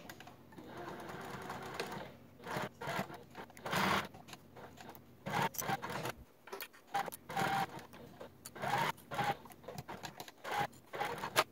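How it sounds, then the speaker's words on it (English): A sewing machine base stitches around the edge of fabric panels for a crossover garment at a long stitch length of 5, running in repeated short bursts with brief pauses between runs. "I'm gonna go ahead and base stitch around the edge here to secure in place, increasing my stitch length to a 5"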